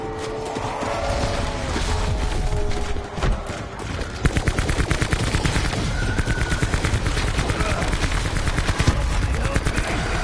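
Video game gun fires in rapid, loud bursts of automatic shots, dense and continuous with crackling impacts and mechanical clatter, over a noisy battle background.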